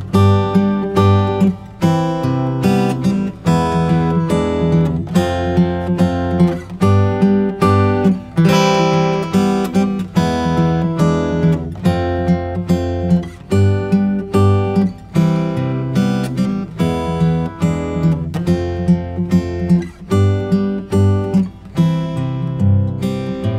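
A guitar plays the chorus of a song, moving through chords in a steady strummed rhythm that sounds close and full. It runs on without any voice.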